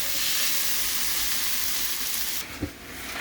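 Potatoes, onions and tomatoes seasoned with black pepper and salt sizzle steadily in a pan, a continuous close hiss that thins out near the end, with one soft clink.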